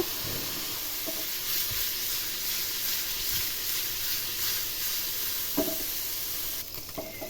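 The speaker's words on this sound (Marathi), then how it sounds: "आता हे चांगलं व्यवस्थित तेलामध्ये परतून घ्यायचे" Paneer pieces sauté in oil in a pan for a dhaba-style paneer and peas curry, giving a steady, close sizzle with a few brief utensil clinks and no talking.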